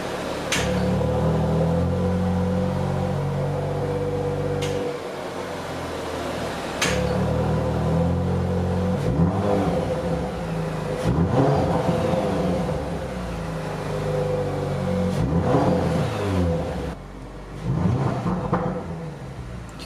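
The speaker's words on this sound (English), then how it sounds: "This car really does sound great, even though it's not a naturally aspirated V8." An Audi RS5 Sportback, turbocharged rather than a naturally aspirated V8, revving in dynamic mode: a loud, steady engine drone with repeated swells of revs and sharp exhaust cracks, with no talking.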